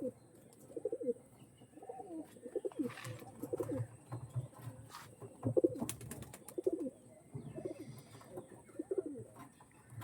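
Pigeons from an old bloodline coo in repeated soft, low throaty phrases, close by and fairly quiet, with a few faint sharper noises between the calls.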